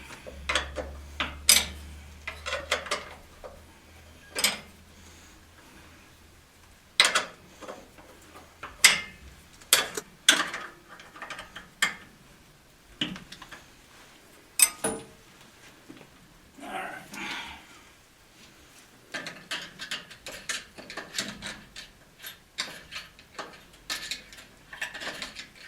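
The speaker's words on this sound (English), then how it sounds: "Half-inch wrench." A half-inch wrench ratchets on the coupler bolts of a boiler pump in a makerspace, giving bursts of sharp clicking separated by pauses, with a low hum early on and voices now and then.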